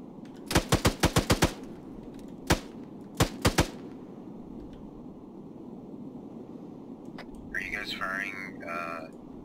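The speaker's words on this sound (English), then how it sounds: "firing right now, or is that someone firing at you?" In Arma 3, a rapid burst of about six rifle shots cracks close and loud. Single and paired shots follow over steady wind and engine rumble, and a voice speaks briefly near the end.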